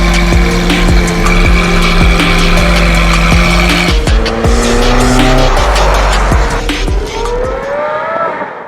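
A Lamborghini Aventador SVJ with a Brilliant aftermarket exhaust roars loud and close on Tokyo streets, its engine note holding high, then dropping with crackles and a rising rev toward the end.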